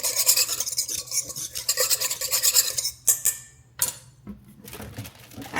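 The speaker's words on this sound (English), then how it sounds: "Go ahead and whisk this with my mini whisk." A mini whisk scrapes and clicks against a small cup while beating a sesame oil slaw dressing, a quick rhythmic rasping that breaks into short pauses and taps near the end.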